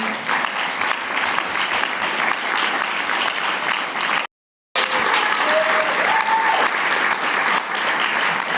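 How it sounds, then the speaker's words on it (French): A French audience in Toulouse applauds volunteers for their work, long, loud and steady clapping that breaks off in a brief gap of silence before resuming, with faint whistles or voices mixed in. "on peut aussi les applaudir pour leur travail aussi"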